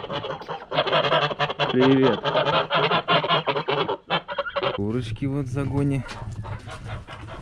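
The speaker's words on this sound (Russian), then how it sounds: "Гуси." Domestic geese in Yakutia honk loudly and repeatedly at close range, a noisy overlapping chorus of harsh nasal calls with brief pauses.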